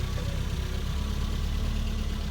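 A Mini car's engine idles with its exhaust running, a steady, low, even rumble close by and fairly quiet, with no voices.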